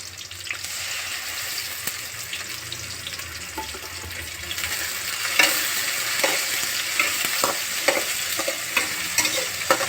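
Ginger garlic paste frying in oil for gongura chicken, a loud close sizzle with scattered spatula scrapes and clicks that grow busier partway through, no voices.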